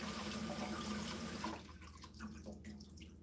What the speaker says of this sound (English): It's literally blowing bubbles right there.